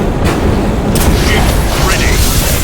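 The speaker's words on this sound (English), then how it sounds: "Direct fire from a Nova Cannon blast." A Nova Cannon blast in the video game Battlefleet Gothic Armada: a loud, sustained, rumbling boom that fills the whole clip, with a brief spoken word over it.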